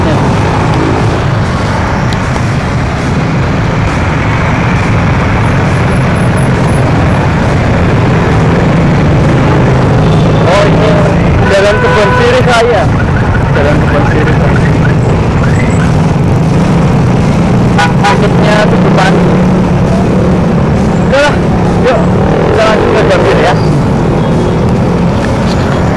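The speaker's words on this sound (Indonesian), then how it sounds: "jadi jalannya ramai banget" Busy road traffic on a Jakarta street holds as a loud, constant roar of passing vehicles close by. Scattered horn toots and clatter break through in the middle stretch, and a voice can be heard now and then.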